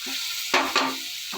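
Chopped garlic and turmeric hit hot oil in a pan, a soft sizzle with a couple of sharper stirring scrapes, fairly quiet and close, no one talking.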